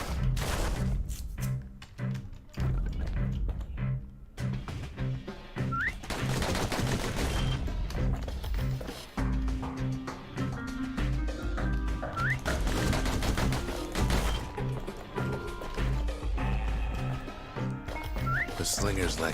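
Rapid gunfire from customized pistols rattles in quick, repeated bursts in the video game Bastion, set against game music, with people talking over it.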